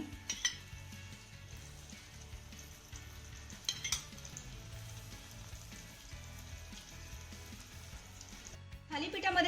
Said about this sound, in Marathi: या होलमध्ये आपल्याला थोडं थोडंसं तेल घालायचं आहे